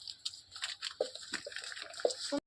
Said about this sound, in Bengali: এবার কড়াইটা সুন্দর করে ধুয়ে নিই